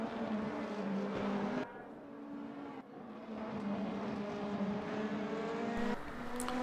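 Race cars in a BMW-led video game race roar past, engines revving and shifting through gears while one car runs wide at the final turn near the pit entry, with tire noise. No voices.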